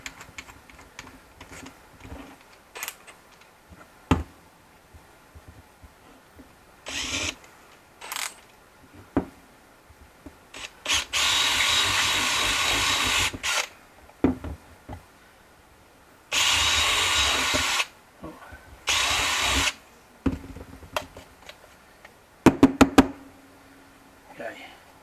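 Several bursts of high-pitched drilling, each a few seconds long, with scattered clicks and knocks between them.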